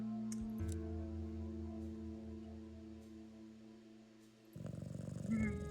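A cat purring in a video game, a steady low rumbling purr with soft rhythmic pulses that runs for most of the moment, then gives way to a louder burst of game sound near the end.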